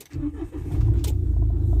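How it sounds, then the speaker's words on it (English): A Mahindra Scorpio engine cranks briefly and catches, settling into a loud, close, low diesel idle with a rhythmic rumble. "just look how it vibrates while you start the car."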